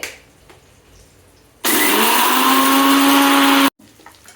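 A kitchen mixer grinder whirs at full speed for about two seconds, grinding masala for Chettinad chicken, a loud steady motor drone with a high whine that starts abruptly and cuts off, with faint room noise before and after.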